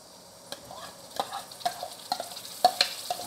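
Stirring yogurt into a spiced mixture in a pan on the stove, soft scraping and clicking strokes at an irregular pace over a faint sizzle, close and fairly quiet with no talking.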